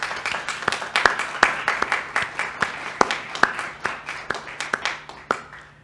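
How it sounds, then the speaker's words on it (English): A graduation commencement audience applauds for the graduate psychology school counseling faculty. Individual claps stand out sharply over a thinner crowd patter in an uneven rhythm, close and fairly loud. "So let's give them a round of applause"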